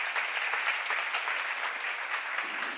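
A church congregation at a Bible seminar bursts into applause, a soft, even patter of many hands clapping together, heard at some distance and sustained without pause.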